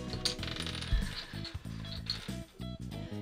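Coins drop into a toy Playmobil drinks vending machine, giving a run of small plastic and metal clinks and rattling mechanism clicks in a quick, uneven sequence, close and fairly quiet.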